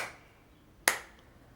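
A single sharp hand clap cracks once, crisp and fairly close, in an otherwise quiet room.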